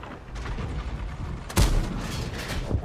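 A single heavy tank cannon shot from World of Tanks booms loud and close, a sharp blast with a short rumbling tail over steady in-game engine and ambient noise.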